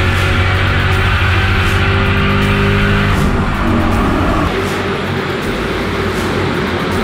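Ford Crown Victoria cars racing around Bristol Motor Speedway, a loud, dense roar of many engines with tires squealing, holding steady and then easing slightly as the pack moves off.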